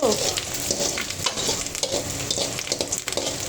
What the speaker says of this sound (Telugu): అలాగే కట్ చేసుకున్న పచ్చిమిర్చి వేసుకుని డీప్ ఫ్రై చేసుకోవాలి.